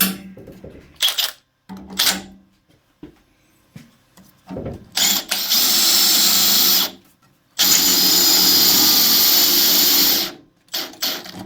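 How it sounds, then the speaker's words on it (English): A cordless drill boring holes, with short bursts of whirring followed by two long, loud sustained runs separated by brief silences, close by. "We've drilled a few holes today."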